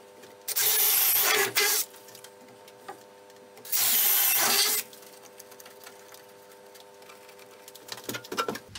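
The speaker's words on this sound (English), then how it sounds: "drill the holes in the top plate for the supply lines to come through" A power drill boring holes through a wooden top plate for shower supply lines in a house under construction, two loud bursts of roughly a second each separated by quieter pauses with faint handling noises.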